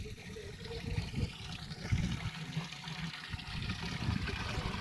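Water sloshing and splashing during hand-washing of clothes and heavy bedding at home, a steady close wet churn with irregular slaps and thumps, no talk.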